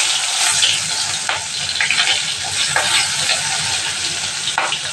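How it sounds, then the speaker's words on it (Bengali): Onions go into hot oil in a pan and sizzle loudly with steady, broad frying hiss, broken by a few scraping stirs. "এবার আমি এই যে পেঁয়াজটা দিয়ে দেবো।"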